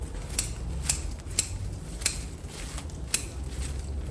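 Pruning shears snip shoots off a ficus bonsai, six crisp metallic clicks spaced about half a second apart, close and clear over quiet background.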